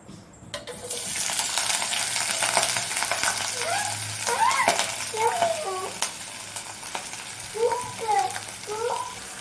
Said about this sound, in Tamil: இப்போது எண்ணெய் நல்லா ஹீட் ஆகிட்டு நம்ம பரண்டை க்ளீன் பண்ணி வச்சதை சேர்த்துக்கலாம்